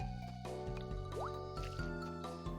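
Water pours and drips from a charged-up watering can onto crops in the farming game Harvest Moon: Sunshine Islands, a bright liquid burst and splashing set against steady background game music.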